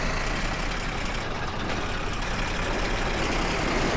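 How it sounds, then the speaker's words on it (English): A tank engine in the desert war game Tank Warfare: Tunisia 1943 drones loud and constant, a dense heavy rumble with grinding mechanical texture filling the whole stretch, with no talking. "Engine noise is extremely loud."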